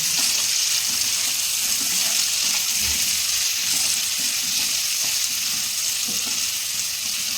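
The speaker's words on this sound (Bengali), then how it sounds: "তেলটা আমার গরম হয়ে গেছে আমি এখন পেঁয়াজটা দিয়ে দিচ্ছি ভেজে নিব" Onions frying in hot oil for a mutton curry, a loud, dense, continuous sizzle close up with faint clinks and stirring noises underneath.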